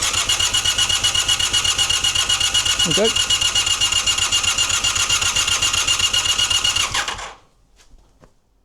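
An engine cranks and runs steadily with a loud, fast rhythmic chugging, then cuts off abruptly near the end; a brief voice is heard over it.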